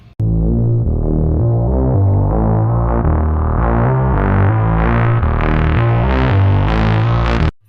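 String trimmer running continuously while cutting grass in a ditch, a loud, close, steady engine drone with a throbbing pulse whose pitch slowly rises as it works.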